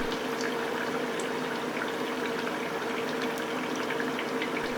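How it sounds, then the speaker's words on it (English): Vegetable spring rolls in homemade pancake wrappers deep fry in hot oil, giving a steady, close, continuous bubbling sizzle with no talk over it. "I just deep fried these until the bubbles stopped in the oil really."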